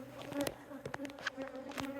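Honey bees buzz around an opened hive during an inspection with multiple queen cells, a steady droning hum close by, with individual bees zipping past the microphone in brief louder passes.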